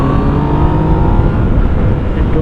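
A Yamaha MT-09 three-cylinder motorcycle engine pulls from low revs on a light throttle, a loud, close, continuous growling drone with a steady rumble and faintly rising pitch, alone without talk.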